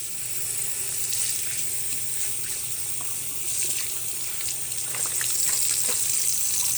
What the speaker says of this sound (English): I am going to rinse this a little bit longer.